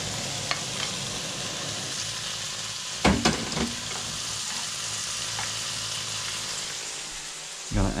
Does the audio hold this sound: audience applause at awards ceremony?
no